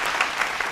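Applause and clapping in a TV studio during a political talk show, a steady dense patter of many hands with a few louder swells, filling the whole short moment without any voices over it.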